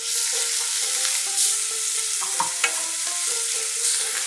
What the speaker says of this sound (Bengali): একটা বড় পেঁয়াজ আমি মিহি করে কুচিয়ে নিয়েছি, এটা দিয়ে দিচ্ছি। খুব ভালো করে কষে নেব।